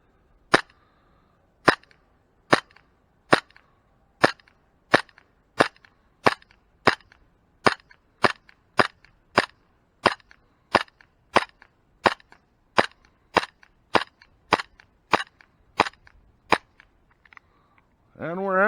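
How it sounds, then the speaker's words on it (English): A CZ P09 pistol fires at a target outdoors: about twenty loud, sharp shots at an even, unhurried pace, each a crisp crack with a short tail, followed by a brief rising mechanical noise at the end. "we're going to do some firing at that target right there"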